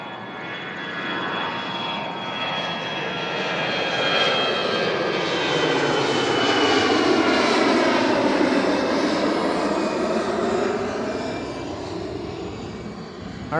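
An Airbus A321 jet at Toronto Pearson airport roars loudly and steadily, its engine noise swelling and sweeping in pitch as it passes fairly close, with no talk over it.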